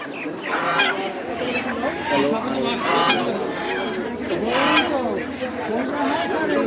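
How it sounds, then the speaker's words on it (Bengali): Busy desi duck and chicken market at Birnagar, with chickens and ducks squawking and honking, overlapping voices chattering, and passing vehicle noise in the background. "দেশি মুরগি"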